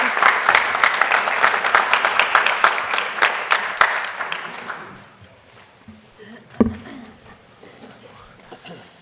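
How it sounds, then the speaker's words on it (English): Audience applause at a school district board meeting, a burst of dense clapping for about four seconds that fades out, followed by quiet room noise with a single loud knock. "please give Jace a round of applause"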